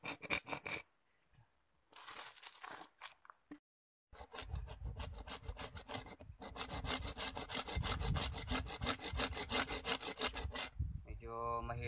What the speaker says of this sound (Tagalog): Medyo mahirap po siyang lagariin.